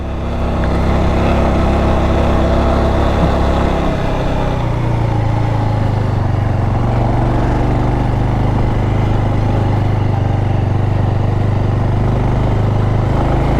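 A Bajaj motorcycle engine labours up a rough, badly broken mountain road, its steady loud drone shifting lower partway through as it keeps climbing, with no speech.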